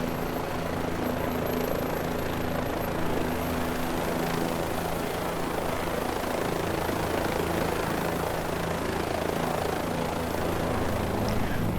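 Bell 407 helicopter in Microsoft Flight Simulator 2020, near Venice Beach, Los Angeles: a steady, loud rotor and turbine drone with a constant hum holds throughout, without talk.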